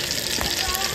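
A dense, steady sizzle of freshwater fish deep frying in hot oil fills the clip, close and continuous.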